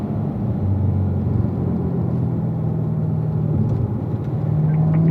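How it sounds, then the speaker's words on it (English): A race car engine at loud, close range, droning steadily as it accelerates on a track, with a brief shift in pitch near the end as it moves up into fourth gear. "Start squeezing into that throttle, get a pedal, gradually bring it back for turn 2, upshifting 1 time, 4th gear"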